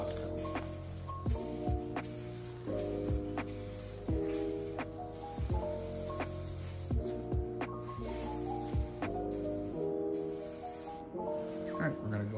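A light dust coat of spray paint goes onto a 2007 Volvo S60, a soft steady hiss close by, broken by regular sharp clicks and pauses as the sprayer passes over the panel.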